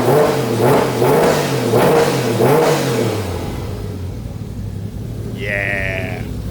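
A 1JZ-swapped BMW E36 drift car engine runs loudly with undulating revving for a few seconds, then settles to a steadier idle-like drone, with a brief high tonal sound near the end.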